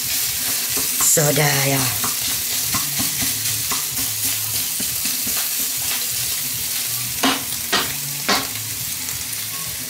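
Food frying and sizzling in a pan while being stirred, with steady sizzle and scraping stir strokes throughout; someone speaks briefly near the start.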